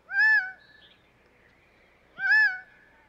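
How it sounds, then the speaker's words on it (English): A Gambel's quail, a desert bird of Arizona, gives two loud, clear, plaintive calls about two seconds apart, each with a slightly drooping, cat-like tone, and quiet stillness between them. "This is the gamble's quail."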